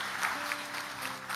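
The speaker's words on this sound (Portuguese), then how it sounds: "Você pode aplaudir a Jesus por isso?" Applause from a church congregation during a Portuguese-language sermon, a short burst of clapping that sounds fairly faint and distant, with no voices over it.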